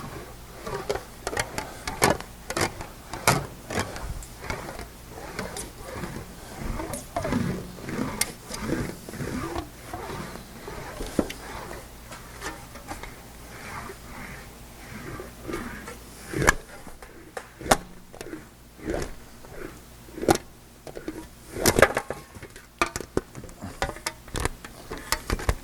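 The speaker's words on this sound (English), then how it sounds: "the English wheel is crunching those down, it's actually pushing the metal together" An English wheel rolls over gathers in a sheet-metal panel for a Talbot-Lago body, giving a steady run of close, crunching metallic clicks and creaks in an irregular rhythm, with no talking.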